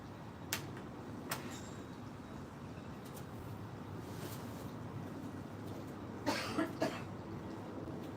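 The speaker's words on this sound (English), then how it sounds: "I had a cough, so I had to walk away." A few faint coughs come at intervals from a short distance away, set against a quiet, steady indoor background hum.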